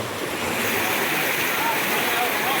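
Floodwater rushes steadily after heavy rain in Mahuva, a continuous loud broadband roar of moving water that fills the whole clip without a break.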